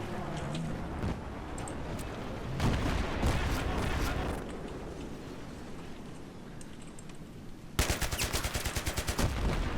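Shooter video game gunfire with Halo- and Titanfall-style weapons, a headshot, scattered loud shots with a rapid automatic burst near the end, someone talking over the game sounds.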